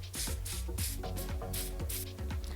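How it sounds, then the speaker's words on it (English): Hairspray hisses in several short bursts onto the hairline of a curly closure wig, each spray close and distinct over a steady background hum. "And now I'm just gonna add some of this hairspray"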